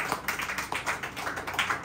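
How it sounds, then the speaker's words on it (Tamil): A church congregation clapping their hands together in a quick, fairly even rhythm, a short burst of soft, moderately distant claps. "நம்ம சபைக்காக ஆண்டவருக்கு கைத்தட்டி நாம் ஆண்டவருக்கு நன்றி செலுத்துவோம்"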